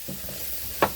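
Mushrooms stir and fry in oil in a pan for chicken Marsala, a soft steady sizzle with a couple of gentle scrapes and one sharper utensil clack near the end.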